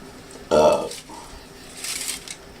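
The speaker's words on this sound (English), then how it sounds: "Been drinking some Shaq soda all day, so I got the burps, you know?" A man lets out a loud, throaty burp after drinking soda, one deep resonant belch lasting about half a second, followed by a fainter rasping sound and some breathy noise close to the microphone.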